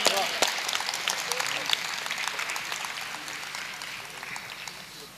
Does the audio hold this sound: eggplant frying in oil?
no